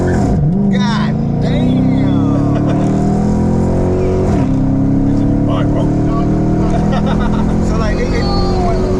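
Modded Chrysler 300 revving hard with wheels spinning, a loud sustained engine drone rising and falling in pitch with a brief drop around the middle, while people talk over it.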